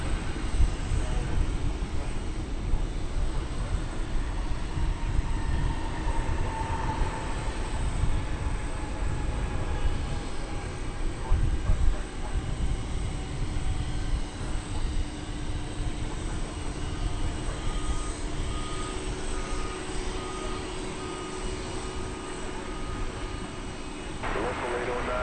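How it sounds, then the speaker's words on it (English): UPS Boeing 767 cargo jet arriving at DFW Airport from Austin, a steady broadband engine roar held at fairly even loudness for the whole span, with voices talking over it. "Here is that UPS flight from Austin that Douglas Serrano alerted us to earlier."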